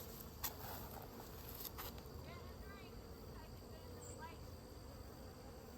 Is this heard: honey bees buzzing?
yes